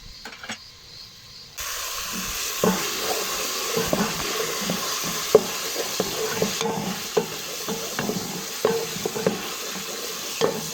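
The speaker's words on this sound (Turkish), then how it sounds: "Şimdi şöyle salçamı kavuracağım." Tomato paste sizzles and hisses in a hot pan, with a spoon scraping and stirring in irregular taps over the steady frying noise.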